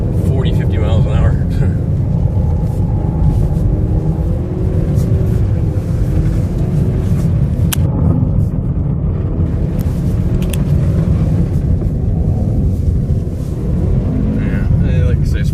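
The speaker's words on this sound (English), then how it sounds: "when you get in the all-wheel drive, you'll see how you can really get this thing going around this course like at 40, 50 miles an hour" A Ford front-wheel-drive car on standard base tires drives around a snowy winter test course at roughly 40 to 50 mph, its engine and road rumble steady and loud throughout, with people talking over it.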